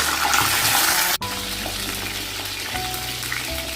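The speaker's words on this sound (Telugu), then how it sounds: "ముందు ఈ వంకాయల్ని ఫ్రై చేద్దాం ఆయిల్లో వేసి" Eggplants frying in oil in a pan make a dense, continuous sizzle close by, with a brief click early on and faint clinks later, no voices.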